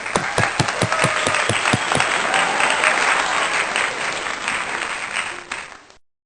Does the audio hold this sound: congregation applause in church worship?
yes